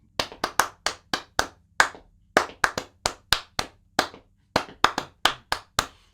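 Hand clapping in steady time, about twenty sharp dry claps in small even groups with short gaps between them, close and alone without talk.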